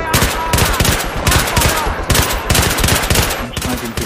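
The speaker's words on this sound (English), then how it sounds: "I'm sniping people with my pistol." Rapid bursts of pistol fire in Battlefield 3 crack out loud and close, shots coming in quick irregular clusters with brief gaps, alone without talk.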